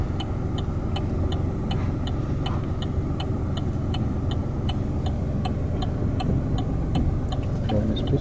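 A car pulls away during a driving lesson on a Nuremberg exam route, its steady engine and road rumble running continuously and fairly loud, with a regular clicking of the turn indicator ticking throughout.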